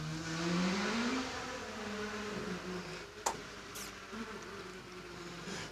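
A small Ford Escort rally car climbs a hill at the Legend of the Lakes Hillclimb, its buzzing engine revving up through the gears at a distance and then fading away.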